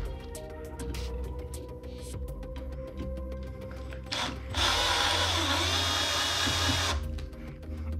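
A power drill removing ceiling fan screws whirs steadily, with a louder, higher-pitched burst of drilling partway through before it settles back to a lower hum.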